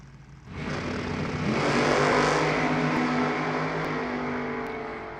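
A pair of supercharged drag racing cars launches at an NHRA divisional race, engines surging from a quiet idle into a loud, sustained roar that builds and holds, heard from nearby.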